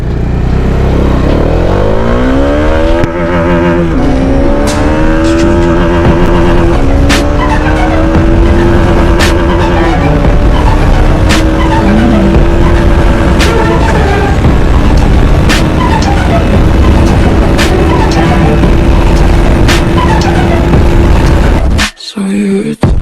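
Bajaj Dominar 400 motorcycle running flat out at about 162 km/h in fifth gear on an open road: a loud, steady, strained engine drone with a slowly rising pitch and wind roar, heard alone for the whole stretch.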